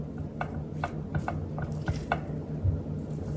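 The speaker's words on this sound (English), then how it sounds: "Make sure you stir from the bottom so that it can all be well combined." Fried rice with green onion stirred in a pan without oil, a spatula scraping up from the bottom in a steady run of light clicks and scrapes over a soft background sizzle.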